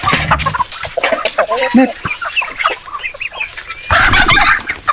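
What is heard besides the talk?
heritage native chickens clucking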